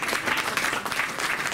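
Dense crowd applause after a press conference for an ice hockey match between Saale Bulls and Moskitos Essen, a steady burst of many hands clapping with no talk.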